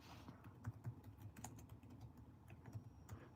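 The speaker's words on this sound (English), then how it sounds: "let me type in" Soft, fast clicks of typing on a computer keyboard come through faintly in the background of a casino setting during a live slot machine coin hunt.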